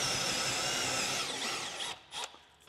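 A power drill drives lag bolts into a wall, whining loudly and steadily up close before slowing and stopping near the end.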